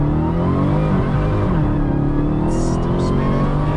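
A Dodge Demon launches on a runway with its wheels spinning, its engine roaring loud and close at a sustained high pitch, a steady snarl with a faint tire-scrub hiss layered over it.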